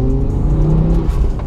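Four-wheel-drive Ford Focus ST Mk2 car with around 320 bhp being driven, its engine a loud, close, continuous growl with a rising note and a brief tyre-and-road rush near the end.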